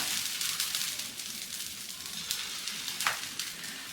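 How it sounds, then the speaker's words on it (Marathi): Rava (semolina) chilla batter sizzling on a hot griddle, a steady soft crackle that stays even throughout with a few small pops, close and alone. "तर आता एक साईडनी पूर्ण आपला हा रवा चिला भाजून घ्यायचा आहे"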